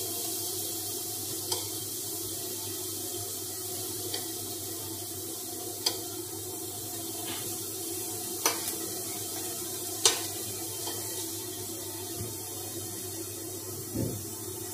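Paneer frying on low flame in a pan gives a quiet, steady sizzle, broken by a few soft clinks of a spoon or spatula against the pan.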